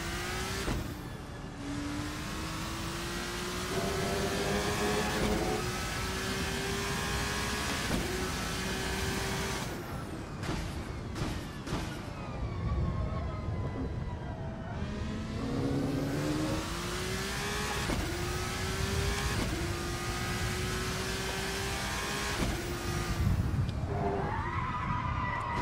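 A race car engine in the Assetto Corsa racing game at the Portimão circuit in Portugal revs hard and continuously, climbing through gears with repeated upshifts and short drops in pitch, loud and close throughout.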